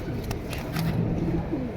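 Army pigeons coo softly and closely in low, rolling bursts over a steady background hum, the calls repeating through the short stretch.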